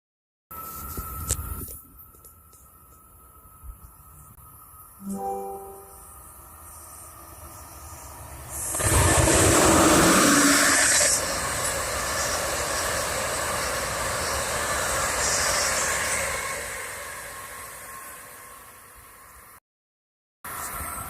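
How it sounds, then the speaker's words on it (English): An Amtrak train passes on the Northeast Corridor at Marcus Hook, starting as a faint distant rumble before swelling into a loud, sustained roar and rush that slowly eases off while still audible. "sometimes here comes Amtrak"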